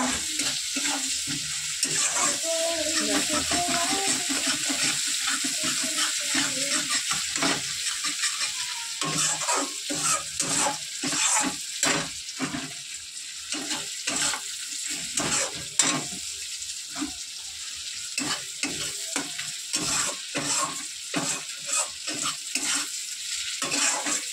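Tangra fish and other ingredients frying in a pan while being stirred, with a steady sizzle and repeated scraping strokes of a spoon against the pan throughout, close and fairly loud, without talk.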